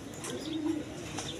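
A pair of pigeons kept for sale coos softly, one brief low call rising in the middle against a steady background hiss, faint and alone without talk.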